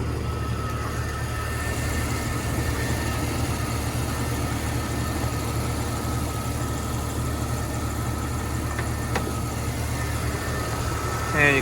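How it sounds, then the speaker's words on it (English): A 1999 Jeep Cherokee's 4-liter inline six idles steadily with a low, even rumble and faint hum throughout, no voices over it. "you can see the 4-liter inline 6 chugging away. Pretty quiet."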